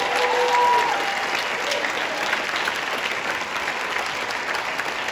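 Sustained audience applause for a student band at a school winter concert, a dense, steady wash of clapping that holds at even loudness throughout.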